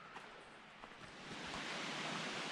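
A creek flows below the cabins in Bryson City, North Carolina. It makes a faint, distant broadband rush that swells slightly louder partway through, alone without speech.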